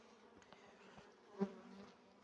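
A steady, faint buzz of honeybees in a hive hums throughout, with one brief louder swell midway, like bees droning close by.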